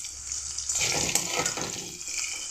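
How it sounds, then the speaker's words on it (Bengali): Cut potatoes fry in hot oil in a pan, giving a steady close sizzle that swells as the pieces are stirred, heard alone with no talk. "কেটে রাখা আলু আমি এর তেলের মধ্যে দিয়ে ভেজে নেব"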